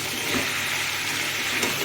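Ginger and garlic sizzle steadily in a hot pan while being stirred, a dense close frying hiss with soft scraping throughout.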